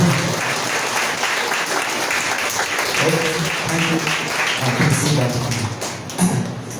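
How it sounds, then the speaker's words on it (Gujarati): Loud applause from a church congregation welcoming a guest, a full, continuous clapping from many people that holds steady throughout, with faint voices mixed in underneath. "જોરદાર તાળીઓ આપીએ આપણે"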